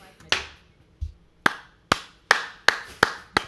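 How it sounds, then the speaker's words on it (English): Several sharp, isolated hand claps ring out one after another at a slightly uneven rhythm, close and loud with clear gaps of quiet between them. "I had to put my glass down to give her a round of applause on that one"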